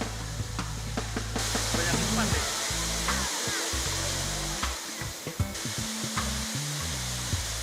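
Wenesu waterfall near Kupang, East Nusa Tenggara, gives a steady, dense roar of falling water throughout, with a voice or other sound mixed faintly underneath.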